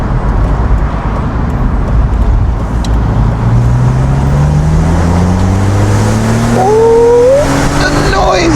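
A 1990s BMW Z3 2.8 roadster's six-cylinder engine revs hard on the move, a loud, close engine note that climbs steadily in pitch and then surges sharply near the end over constant road noise.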